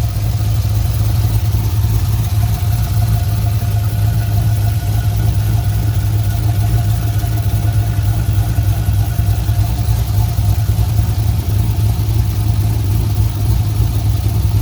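A Camaro engine idles loud and close after its first start following an exhaust swap. A deep, steady rumble continues without a break for the whole stretch.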